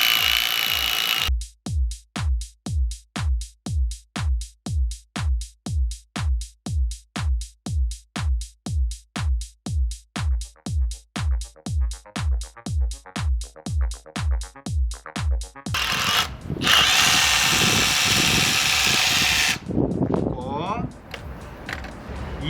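Korean 20T-model rotary hammer drill with a 10mm bit boring into a hard, dense concrete floor: a long run of rapid, evenly pulsing hammer blows, loud and close, then shifting to a rougher continuous grinding roar near the end.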